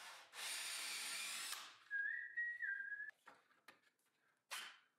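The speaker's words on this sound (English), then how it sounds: "I mark and drill the holes in the nailers first" A power drill bores holes in wooden nailers for a fireplace mantel, one loud sustained burst of drilling, then a whistle-like whine and scattered knocks before a second short burst.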